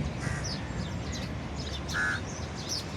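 Birds give harsh, raspy calls scattered over a noisy outdoor background, one call louder near the middle.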